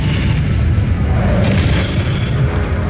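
The Incendio fire spell bursts in Hogwarts Legacy, a loud, dense booming roar of flame that fills the whole moment with no break.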